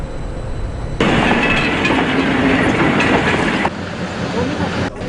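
A train rumbles steadily across the Nine Arch Bridge in Ella, Sri Lanka, with a dense rattling roar that swells suddenly and then eases, with rhythmic clatter of wheels on track.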